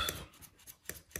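Scissors cut through a yellow sport seat belt strap in quick, crisp snips, with three or four short close-up cuts in just over a second.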